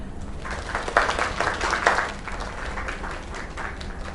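A crowd at a bar or small venue in the video game Lake gives a round of applause, the clapping fairly soft and sustained with a couple of sharper bursts.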